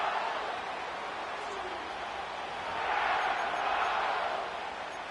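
Stadium crowd noise from an EA Sports NFL video game set at SoFi Stadium in Inglewood, a broad steady roar that swells slightly midway, heard alone without commentary.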